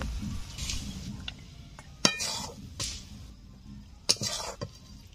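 A cooking pot lifted off a village stove after a fish-head and greens curry has cooked dry, with a few sharp metallic clinks and scrapes of pot and utensils against a quiet background, no talking.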